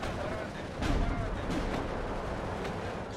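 Mortar fire in the Steel Division 2 video game, with several muffled thumps and distant booms over a continuous battlefield rumble.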